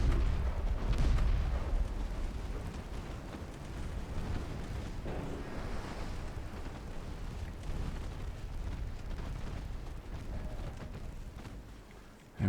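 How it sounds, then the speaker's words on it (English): Torpedo explosions strike ships in a naval warfare video game set in a US campaign, heard as a continuous, dense rumble of deep booms and blasts that fades slightly near the end. "torpedoes do strike home"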